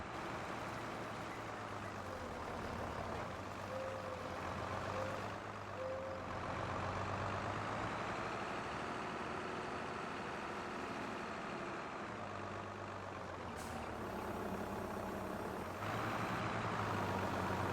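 A diesel farm tractor engine runs steadily throughout, a loud continuous low rumble with a constant drone, holding the same tone with no talk.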